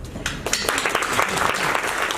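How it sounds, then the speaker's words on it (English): A short burst of audience applause at a community meeting, with dense, lively clapping from a moderately sized crowd lasting a couple of seconds. "I just want you to join me in giving you a big round of applause."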